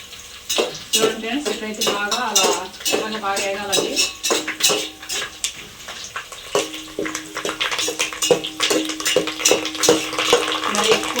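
Curry leaves sizzle in hot oil in a pan for tomato rice, with a spoon clattering and scraping in repeated stirring strokes, close up, while someone talks over the frying.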